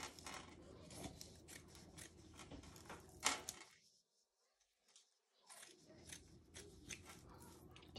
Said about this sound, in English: I'm going to turn this upside down and I'm going to cut a little bit more off the bottom.